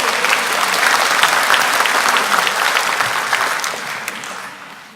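A church congregation applauds loudly and steadily for a woman walking up to give her testimony. The dense, even clapping from the whole crowd fills the room and fades slightly toward the end.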